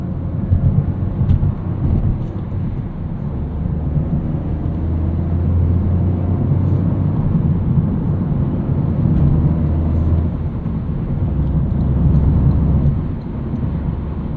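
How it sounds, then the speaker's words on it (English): Inside a 2023 Toyota GR Corolla cruising on the highway, a loud, steady low road and engine rumble drones on without a break, swelling slightly now and then, with no voices. "Getting settled in the GR Corolla here on the highway"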